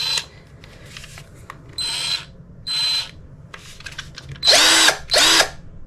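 A DEKO DKCD20XL02G cordless drill whirs in short bursts at a low throttle setting, then in two louder, higher-pitched runs near the end, each lasting about a second, close up with no talking.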